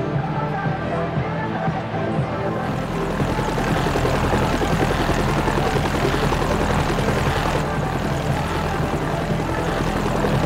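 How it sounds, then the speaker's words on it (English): A helicopter in the racing video game Forza Horizon gives a loud, sustained rotor and engine drone that stays strong and steady throughout. "Oh, and he's in a helicopter."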